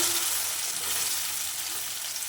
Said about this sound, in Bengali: কড়াইতে সাদা তেল গরম করে নেব ভালোভাবে নিয়ে সয়াবিনগুলো ভাজতে দিয়ে দেবো